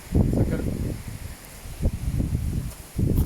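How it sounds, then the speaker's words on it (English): Wind buffets a microphone in low, rumbling gusts that come and go, loud and close, with a brief lull in the middle. "it's a little bit windy in here"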